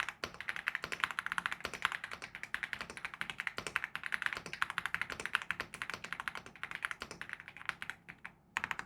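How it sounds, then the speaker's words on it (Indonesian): Fast, steady typing on a Leobog Hi8 SE mechanical keyboard, dense clacky keystrokes running continuously up close with no talking. "Dan untuk keyboardnya langsung kita coba typing test aja."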